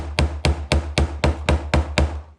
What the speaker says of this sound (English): Just give it a quick tap with a flat screwdriver and a hammer.